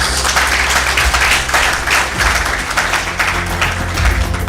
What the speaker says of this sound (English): can we give a round of applause to all the presenters that have since presented?